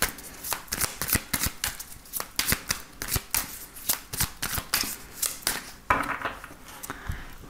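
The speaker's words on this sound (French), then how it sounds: "on va faire un tirage avec le tarot pour voir un petit peu ce qui va se passer" Tarot cards are shuffled by hand in a steady, rhythmic riffle of papery slaps and flutters, close and continuous for several seconds with no talking.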